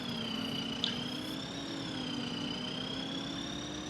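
A Farming Simulator 25 tractor engine drones steadily and fairly loudly, with a constant low hum and a high whine that rises and falls slightly, one small click partway through.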